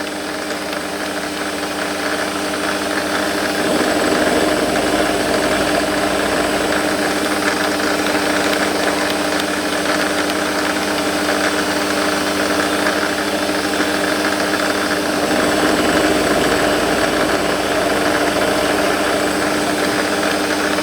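A brand-new 1/4 inch end mill cuts a slot into a metal workpiece, producing a loud, continuous, even machining roar that holds steady for the whole stretch, with no talking.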